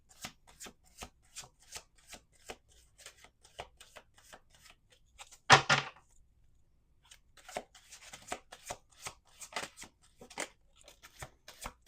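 Playing cards shuffled repeatedly, a steady run of crisp riffling bursts with one louder bridge-like flutter midway, then more rapid shuffling.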